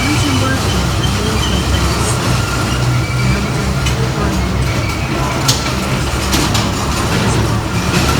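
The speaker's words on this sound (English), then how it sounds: "We're taking this train." A train rides the rails with a dense, steady rumble and rattle of wheels and carriage, loud and continuous throughout, with faint squeal-like ticks on top.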